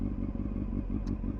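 A motorcycle, repaired after a Category B write-off crash, runs as it sets off, giving a steady low engine rumble with light clatter throughout.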